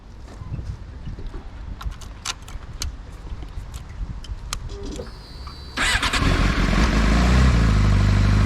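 A Suzuki GSXR 600 K7 sports motorcycle starts up close by, with a brief starter crank after some handling and clicks, then the engine catches and settles into a loud steady idle.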